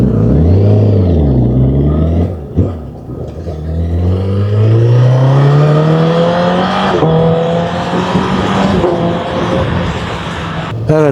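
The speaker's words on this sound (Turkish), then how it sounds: "4 silindir, sesi muazzam." A four-cylinder motorcycle engine revs up and down several times, its pitch climbing smoothly and dropping back, loud and close.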